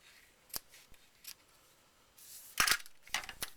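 Scissors snip a ribbon bow on a handmade card, giving a few quiet, separate cuts, with two sharper snips near the end.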